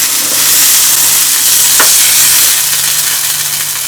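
A sirloin steak sizzles as it is stir-fried in a hot pan, a loud, close, steady hiss with a brief scrape partway through.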